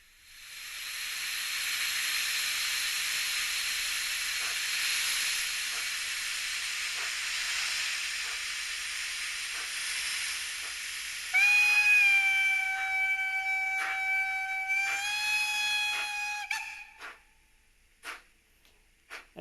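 Tillig HO scale model steam locomotive sound module playing a long steady hiss of escaping steam, then a multi-tone whistle blowing twice, followed by a few soft clanks as it fades, faint and alone.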